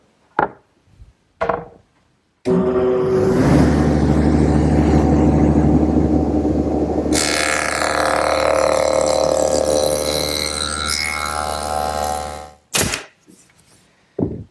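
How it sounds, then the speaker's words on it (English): A table saw fitted with a dado head cutter runs through wood, a loud sustained roar of blade and cut lasting about ten seconds, with brief knocks before and after. "Now I'm going to use the table saw and the dado head cutter"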